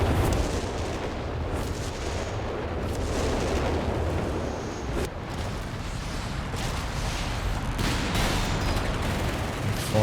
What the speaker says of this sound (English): precision barrage gets the artillery officer wipe